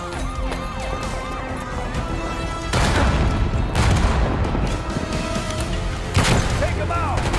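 Heavy explosive booms from a thrown grenade burst out in the Call of Duty: Black Ops 6 campaign amid sirens, gunfire and shouted voices, with loud impacts near the three- and six-second marks.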